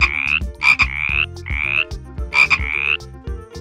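A frog croaks in a series of raspy, rattling calls, several in quick succession with short gaps, loud and close with no other sounds.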